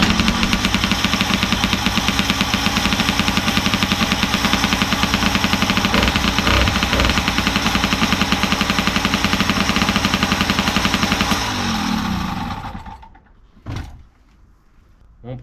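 An old MBK 51 moped engine runs in a fast, rattling two-stroke putter, loud and close, for about twelve seconds before cutting off, followed by a few clunks in near silence.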